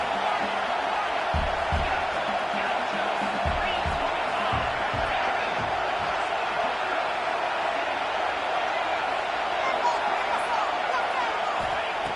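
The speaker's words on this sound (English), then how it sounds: "this crowd coming to life here, trying to help the defense get a stop" A football stadium crowd roars steadily and loudly throughout, a dense, sustained cheering wash with scattered thumps and shouts, and no break in the noise.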